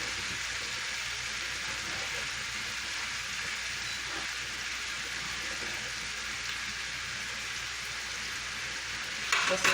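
A steady, dense hiss of a pot of noodles boiling, bubbling evenly and close up with no talking.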